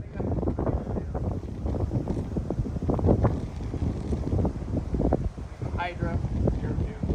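Strong gusting wind roars across the microphone during a disc golf round in a windstorm at a river park, a constant buffeting rumble with voices talking now and then.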